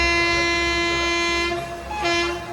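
A Madurai-Coimbatore Intercity Express sounds a long, loud, steady horn blast close by. After a brief dip the horn resumes over the rumble of the running train.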